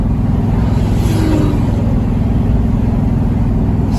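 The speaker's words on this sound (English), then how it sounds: "Split bumper Camaro." A split bumper Camaro, a classic car, drives by in a steady loud rumble of engine and road noise that fills the whole stretch with low-end drone and no voices.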